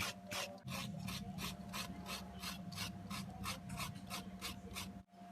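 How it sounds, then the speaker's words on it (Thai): Coconut being grated by hand on a traditional scraper for fresh coconut milk, a steady rhythmic rasping of about two strokes per second, close and loud, with a low mechanical hum beneath and a brief pause midway. "นี่เราพามาขูดมะพร้าวกันก่อนนะครับ"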